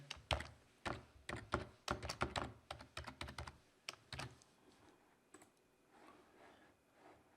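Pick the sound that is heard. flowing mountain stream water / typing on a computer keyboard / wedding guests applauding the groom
typing on a computer keyboard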